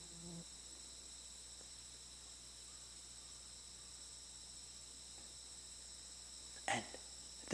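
Crickets chirp faintly in a steady, continuous high trill throughout, quiet and distant, broken only by a brief louder rustle near the end.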